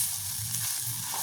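Grated coconut and drumsticks stirred as they fry in a pan for a village-style vegetable dish, giving a soft, even sizzle with faint low scraping, quiet and close, no speech.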